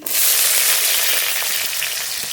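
Whole garlic cloves fry in hot mustard oil in a kadai, a loud, continuous bright sizzle that holds steady throughout without talk.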